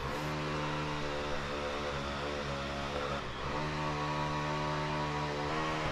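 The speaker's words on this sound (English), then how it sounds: "The chainsaw builds anticipation." A chainsaw engine drones steadily nearby, its buzzing motor holding a rough idle with a brief dip and recovery partway through.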